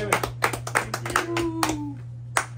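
Several people clap in quick bursts for tournament winners at a Warcry tabletop game event, the applause loud and close with brief voices and a whistle-like tone mixed in, over a steady low electrical hum.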